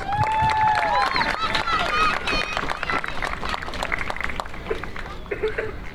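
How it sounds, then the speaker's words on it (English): Crowd at a youth football all-star event (14U) cheering and applauding, with whistles or shouts and dense babble sustained throughout, loud and close. "Let's give it a big round of applause for all the All-Stars."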